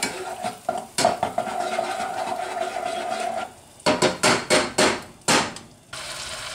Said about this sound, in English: Butter's good and melted, add the onion.